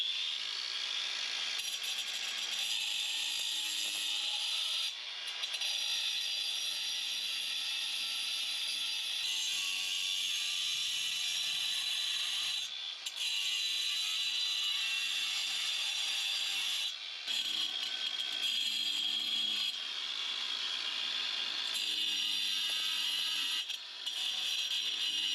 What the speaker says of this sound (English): So the grinding is underway.